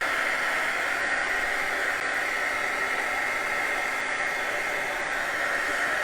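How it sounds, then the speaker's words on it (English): A small portable hair dryer blows with a steady, even rushing hiss, constant and close for the whole stretch. "So you can also use a hair dryer to help you dry this."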